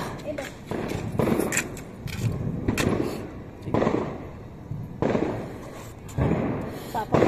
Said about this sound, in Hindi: उधर पटाखा फूटना भी शुरू हो गया